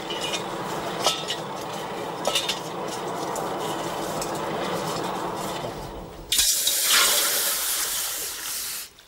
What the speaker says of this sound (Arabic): حتى يقوم الصفار بوضع ماء بارد في الإناء ليتأكد من جودة عمله